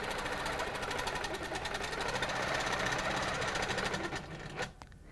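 A sewing machine stitches along a ruler in one continuous, even run that slows and stops near the end, close and moderately loud.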